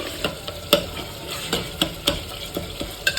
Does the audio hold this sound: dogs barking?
no